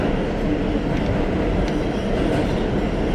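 A New York City subway Kawasaki R211T train running on the G line rumbles steadily inside the car, with rolling wheel noise, faint clicks and brief squeals at close range, and no one speaking.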